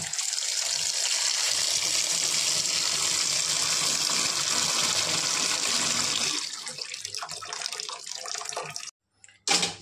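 Tap water runs in a steady gush while cut jackfruit pieces are washed, a continuous hiss and splash that thins out into uneven trickles and drips before stopping near the end.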